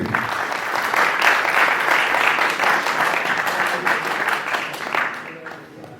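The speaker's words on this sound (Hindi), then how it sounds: "एक बार प्लीज अपने लिए एक बार" Loud, dense audience applause fills a music album launch event, steady and sustained for several seconds before starting to fade.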